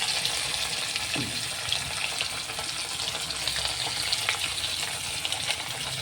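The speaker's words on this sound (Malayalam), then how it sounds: "തിളച്ച എണ്ണയിലേക്ക് നമുക്ക് മീനിട്ട് കൊടുക്കാം." Fish fries in hot oil, a steady close hiss and crackle of sizzling holding evenly throughout with no voices.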